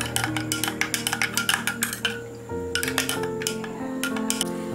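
A spoon stirs homemade mango juice mixed with water in a glass, giving rapid, rhythmic metallic clinks against the glass in two quick bursts with a short pause between, close and clear.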